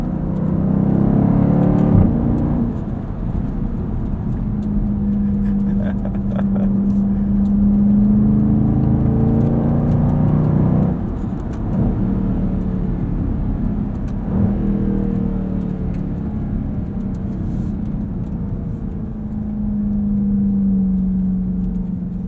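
A 2020 Dodge Durango SRT heard from inside the cabin, its engine droning and rising through gears with sharp rev blips on downshifts, loud and continuous for over twenty seconds, with no talk.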